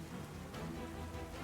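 Rain weather in a Pokémon video game battle makes a quiet, steady patter and hiss across the whole short stretch, with no voices over it.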